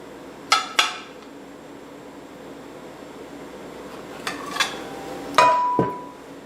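A fish spatula scrapes and clacks against a barbecue grill grate while shifting a huge smoked BLT quesadilla, giving a few separate metallic scrapes and taps spread out over a quiet background.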